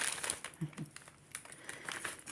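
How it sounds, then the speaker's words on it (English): A plastic bag crinkles as jewelry pieces are put into it, with soft, irregular rustles and crackles close by and quiet background noise. "If anybody gets bothered by the crinkling of that, cover your ears"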